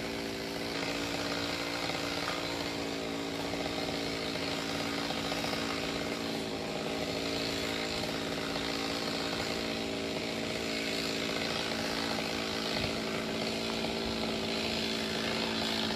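A chainsaw drones steadily at a distance as it cuts through a tall dipterocarp oil tree beside a fence, the engine holding a continuous buzzing whine with no talk.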